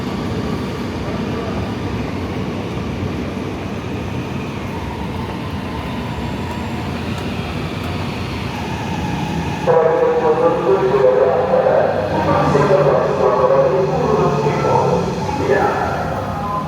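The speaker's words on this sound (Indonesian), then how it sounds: "Kereta Manggarai udah datang tuh" A commuter train bound for Manggarai, Indonesia, rolls in with a steady rumble and rising screech of wheels, loud and close, while voices murmur in the background of a busy platform.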